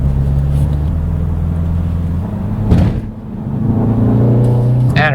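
A Mini John Cooper Works with a 7-speed dual-clutch transmission is driven hard through a series of bends, its engine drone loud and steady, dipping briefly as it lifts off and then pulling strongly again.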